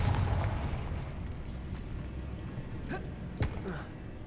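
A Confringo fire-blast spell in a Hogwarts video game bursts into a steady low rumbling roar, with a couple of sharp cracks landing near the end.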